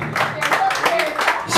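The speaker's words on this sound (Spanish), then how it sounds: "ese fuerte aplauso, mi amorito, que sea para Liliana" A crowd at a mariachi birthday celebration for Liliana claps in a brisk, uneven burst, with a voice speaking through the applause.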